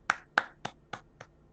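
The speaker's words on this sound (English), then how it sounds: "I'll clap for posterity, I guess." Five sharp hand claps, close and dry, spaced evenly about a quarter second apart and growing slightly softer, heard alone in a quiet room.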